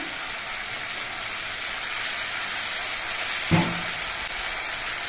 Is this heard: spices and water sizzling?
yes